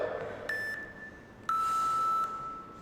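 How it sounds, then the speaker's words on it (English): Electronic workout interval timer beeps sound twice, each a clear sustained tone, the second longer and slightly lower, over quiet background hiss. "Listen for those beeps."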